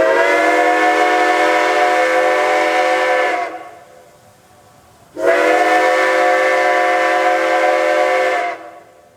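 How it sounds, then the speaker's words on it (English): A brand new Reading 6-chime steam train whistle blows two long, loud, rich chords, each about three and a half seconds, separated by a brief pause. "Getting to blow the brand new Reading 6-chime whistle was pretty awesome."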